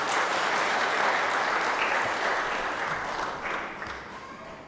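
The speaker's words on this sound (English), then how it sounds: "How about a round of applause for our PTA president?" A roomful of people applauds the PTA president at a live panel event, a sustained burst of clapping that gradually fades toward the end, with some voices mixed in.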